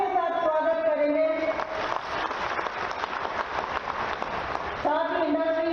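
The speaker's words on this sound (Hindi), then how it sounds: "उनका तालियों के साथ स्वागत करेंगे" A crowd applauds to welcome Chief Minister Shivraj Singh Chouhan at a public event in Dewas, a swell of clapping under amplified speech that opens and closes the clip.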